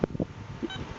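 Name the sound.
metal detector beeps during ground balance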